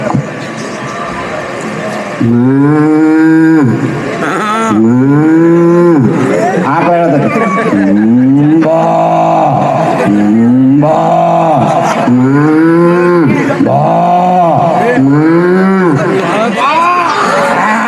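A voice imitates cow and calf mooing, a string of long drawn-out moos in steady succession, loud and close.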